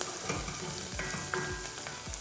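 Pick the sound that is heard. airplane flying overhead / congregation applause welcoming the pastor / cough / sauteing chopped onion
sauteing chopped onion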